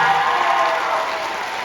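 Audience applause in a choir festival concert hall for a collaborative pianist, a dense, steady wash of many hands clapping that holds evenly and eases slightly toward the end.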